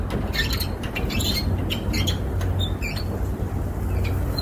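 A tie-down strap on a Conestoga trailer tarp is cranked tighter, producing faint repeated ratcheting clicks and squeaks over a loud, constant outdoor rumble.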